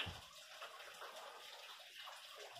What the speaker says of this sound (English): This is the fireplace waterfall.